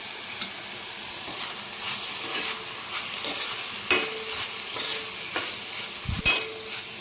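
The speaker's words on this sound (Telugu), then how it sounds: "ఇప్పుడు దీంట్లోకి కొబ్బరి కారం అయితే వేస్తున్నాను" Ponnaganti greens fry in a pan with coconut chili powder, giving a steady soft sizzle with repeated scraping stirs and a sharper clatter near the end, no voices.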